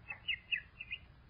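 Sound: swallow chirping, radio drama sound effect

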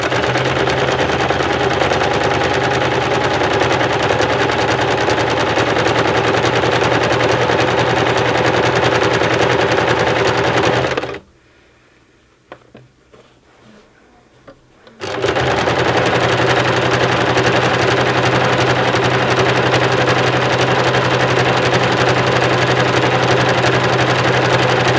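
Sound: sewing machine stitching a tote bag

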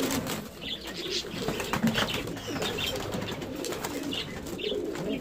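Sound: pigeons cooing in a loft

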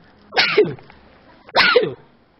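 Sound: sneeze

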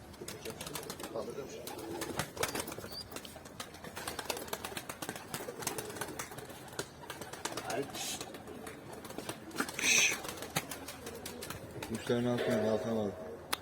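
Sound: pigeons in a pigeon loft

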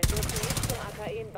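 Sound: gunfire shooting cells in Rainbow Six Extraction video game

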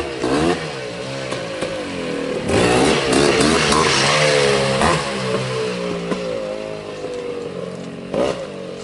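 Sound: 1984 Honda ATC250R motorcycle engine revving

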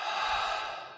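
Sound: deep breath in and out

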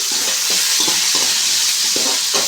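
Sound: curry leaves and salt stirred and frying for upma

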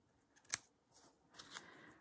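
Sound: scissors trimming paper for a craft journal page

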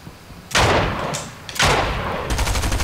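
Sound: gunshots in a video game

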